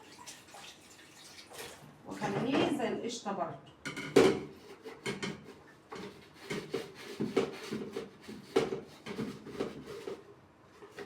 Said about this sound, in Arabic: همسك بقى تاني الخلاط ده اغسله